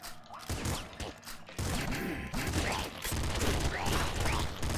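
Rapid bursts of shell gunfire from Nuclear Throne sound as repeated loud blasts with chunky impacts, close and nearly continuous in clusters across the clip, with game effects mixed in.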